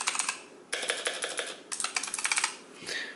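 Rapid typing on a Razer Huntsman Elite gaming keyboard produces sharp, clicky keystrokes in quick clusters separated by short gaps, heard up close with no talking.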